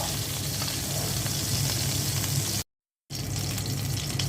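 Onions are dropped into hot oil left from frying fish to start a curry, making a loud, steady crackling sizzle that cuts out briefly near the end before resuming.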